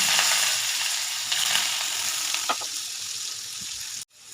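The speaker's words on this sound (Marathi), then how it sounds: "तेल आपले गरम झालेले आहे त्यामध्ये राई जिरे आणि बारीक चिरलेला कांदा टाकून परतवून घेते" Mustard seeds, cumin and finely chopped onion fry in hot oil for a katwel vegetable dish, giving a steady, close sizzle with faint stirring clicks that cuts off abruptly near the end.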